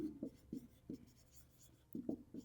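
Pen scratching on paper while a math figure is labeled, a series of short, faint strokes in two quick clusters with a pause between, close and quiet with no talking.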